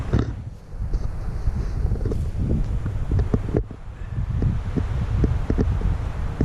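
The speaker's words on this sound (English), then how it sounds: "Really windy today" Strong wind buffets the microphone outdoors at a lakeside campsite with a rooftop tent, a steady low roaring rush with gusts swelling and easing throughout, with no talking.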